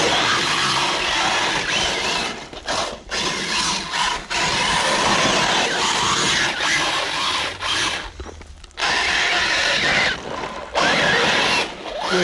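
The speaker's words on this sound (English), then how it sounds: "Still slight grinding in this car." Grinding gears in the front differential of a Kronos VI RC car, a harsh, dense mechanical rasp that runs in loud bursts broken by brief pauses, close to the listener.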